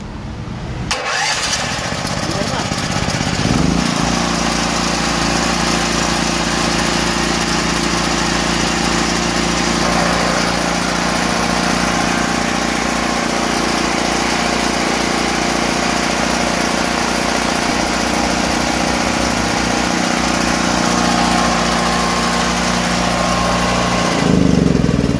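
A Kanpor portable generator engine with a new spark plug catches on a start pull after choking, then runs steadily at a loud, constant drone close by for over twenty seconds.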